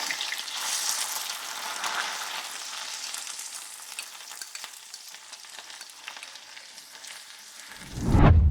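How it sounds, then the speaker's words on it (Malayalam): Ginger frying in hot oil in a home kitchen for an Onam feast, a steady bright sizzle that is loud at first and gradually settles, with a low thump near the end. "നമുക്കിനി ഇഞ്ചി മൂപ്പിക്കാനായിട്ടിടാം"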